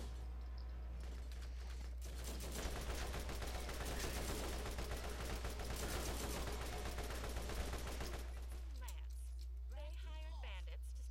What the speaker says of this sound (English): they have turrets as well